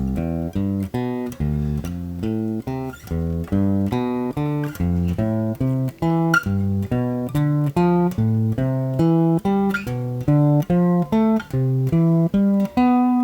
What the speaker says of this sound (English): all ascending arpeggios going up, and then all ascending arpeggios going back down.